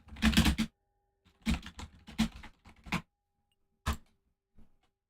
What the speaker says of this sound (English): Some very aggressive tapping.